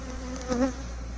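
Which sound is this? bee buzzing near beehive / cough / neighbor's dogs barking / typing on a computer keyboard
bee buzzing near beehive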